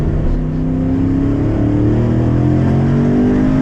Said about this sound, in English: do a second gear pull